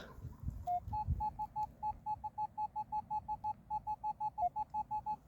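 A Minelab Equinox 800 metal detector sweeps over a coin in an abandoned vegetable garden, sounding a steady run of short, clear, evenly spaced beeps, close and distinct above low rustling ground noise.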